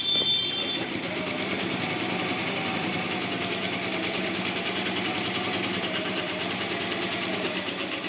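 A sewing machine runs steadily, stitching a double seam on wrap trousers with an even, rapid mechanical whir throughout, close and alone.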